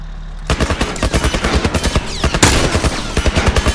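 In The Last of Us Remastered, a tank opens fire on the player with loud, rapid automatic bursts, a dense, steady rattle of shots with a brief sharper blast midway.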